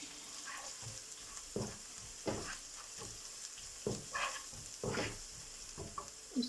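Onion and garlic fry in a pan for chana daal, a steady low sizzle with a spoon stirring at regular intervals. Each stir scrapes close by, with no talking.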